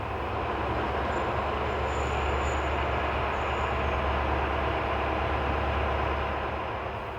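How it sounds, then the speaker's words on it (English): Locomotive 67390 arrives with empty stock for a Grenoble service, giving a steady, moderately loud rumble and a faint high squeal of wheels on rail throughout. "This is 67390 arriving with empty stock for the 7:53 service for Grenoble."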